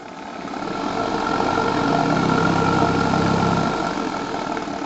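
A JLS 13-2 model steam engine runs with a steady, dense mechanical churn that swells louder as it accelerates, then eases back slightly.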